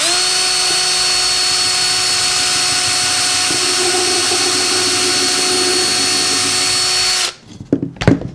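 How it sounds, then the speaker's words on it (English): A power drill bores a pilot hole into a piece of wood, its steady high motor whine running for about seven seconds before cutting off into a few scattered clatters and knocks. "If I want to drill a pilot hole, what a pilot hole is drilling into a piece of wood to make a hole for a screw"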